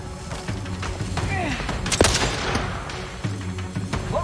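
A stun weapon fires during combat in The Outer Worlds 2, with a sharp blast near the middle over a steady bed of game sounds, background music and scattered thumps.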